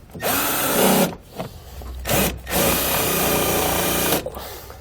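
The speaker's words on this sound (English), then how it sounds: "I'm going to come in here with a self-tapping screw and tack it into place." A power drill drives a self-tapping screw while a wiring harness is mounted on a 2016 Ford Transit, with three loud whirring bursts of about a second each, separated by short pauses, close by and with no talk.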